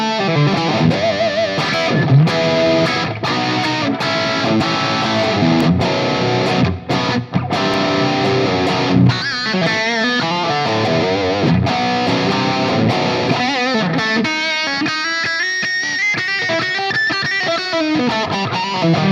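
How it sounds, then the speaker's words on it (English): An electric guitar runs through a Bogner Ubershall-style high-gain amp preset with a medium plate reverb, playing distorted riffs and sustained lead lines that ring out in a lush tail, loud and alone without talk. "So let's start to add some reverb. My favorite reverb is the medium plate."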